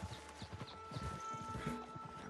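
A horse trots in Red Dead Redemption 2, its hooves beating a steady, rhythmic clip-clop that stays fairly quiet and close.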